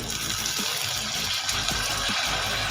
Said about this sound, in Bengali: দেব পরিমাণ মতো গরম জল